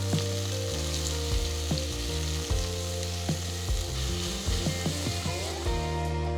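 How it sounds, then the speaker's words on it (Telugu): Whole spices and sliced onions fry in a pan for coconut milk rice, giving a steady close sizzle with occasional stirring knocks over a soft tonal music bed. "తరిగిన రెండు ఉల్లిపాయలు వేసి వేపుకోవాలి"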